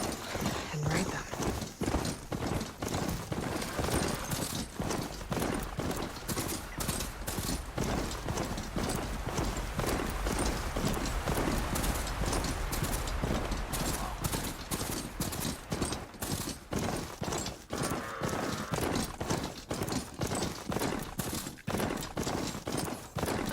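Heavy rhythmic footfalls of a ridden bristleback machine in Horizon Forbidden West, a steady clip-clop gait pounding continuously under a dense game soundscape.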